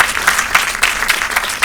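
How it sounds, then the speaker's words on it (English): A seated audience at a formal event honouring a first lady bursts into dense, continuous applause, close and loud throughout. "Please give him a round of applause"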